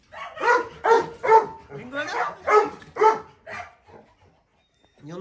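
A farm dog barks in a quick close run of loud woofs with short gaps, then trails off into softer yips and whimpers before a new sound begins.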